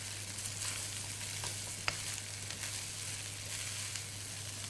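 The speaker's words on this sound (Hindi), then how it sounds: "इस तरह से आपने इसको फ्राई किया।" Dragon chicken fries in a pan with a steady crackling sizzle, over a constant low hum and one or two sharp pops, with no one talking.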